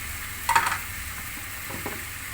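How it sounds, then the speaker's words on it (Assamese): Cane shoots (betgaj) frying with potato and egg in a pan under a soft constant sizzle, with one brief scrape of stirring and a fainter one later, close and without talk. "মই কেনেকৈ ভাজিছো বেতগাজটো মই দেখাই আছো"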